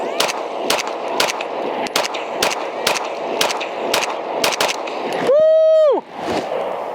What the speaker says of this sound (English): I'm just gonna shoot like 5 to 10 rounds.